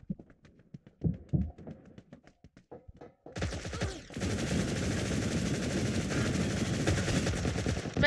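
Sparse taps give way to sustained rapid gunfire in the mobile game BGMI, bursts of automatic shots rattling on loudly for several seconds.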